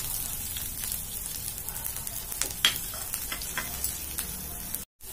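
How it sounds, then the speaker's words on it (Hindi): Garlic and green chilli fry in hot oil in an Indian-style pasta dish, a close, steady crackling sizzle with small pops and a brief stirring clatter, then a short cut to silence near the end. "अब मैं इसमें थोड़ा सा लहसुन और हरी मिर्च ऐड कर दूंगी।"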